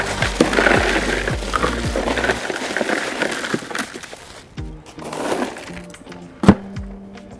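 A layer of ice is poured over the packed contents of a cooler, making clattering, crunching bursts of cubes tumbling and cracking. A quieter pause follows before another short scattering pour and a sharp clack.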